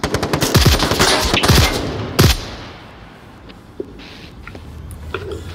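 Gunfire in the VR shooter Onward: rapid bursts of automatic fire crackle loudly for about two seconds, followed by scattered single shots and quieter distant reports.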